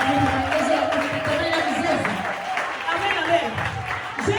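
A church congregation cheers and applauds in a loud, continuous crowd roar, with clapping and excited voices blended together throughout.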